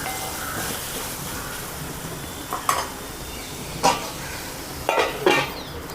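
Watermelon rind sautés in a kadai with a continuous sizzle, and a spoon scrapes and clinks against the pan in several brief stirs near the end.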